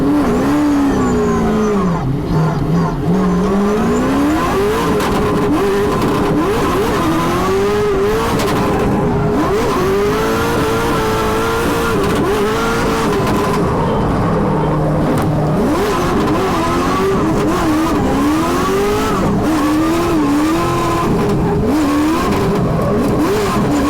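A Corvette C6 drift car revs hard and accelerates through a pro drift competition run, its loud, wavering engine note rising and falling with sustained throttle and faint tyre squeal throughout.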